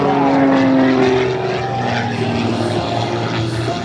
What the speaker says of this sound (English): Nothing but horsepower and thrust, keeping that airplane in the sky.